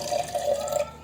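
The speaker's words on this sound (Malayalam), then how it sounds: "കുറച്ച് വെള്ളം ചേർക്കുന്നുണ്ട് കേട്ടോ." A short, fairly faint trickle of water is poured into a blender jar of dry fruits for apple juice.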